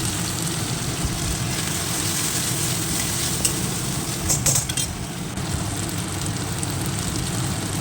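Steady, loud sizzling and frying as tomatoes go into a pan of ginger, cumin, green chilli and garlic paste while cooking a prawn curry, a continuous crackling hiss with a brief stirring scrape partway through.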